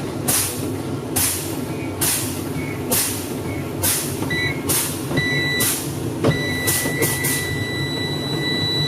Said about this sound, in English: There's the red light, and you can hear the buzzer.